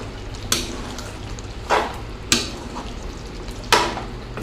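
A spoon stirs chicken gravy in a pan with a steady sizzle, making about four distinct scraping strokes spaced roughly a second apart, close and fairly loud, with no voices.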